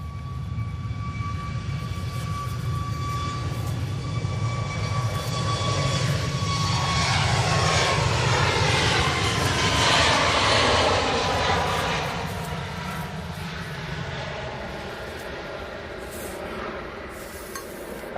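Ryanair jet airliner at Manchester Airport, its engines roaring steadily with a whining tone that swells to a peak midway through and then slowly eases while staying loud throughout.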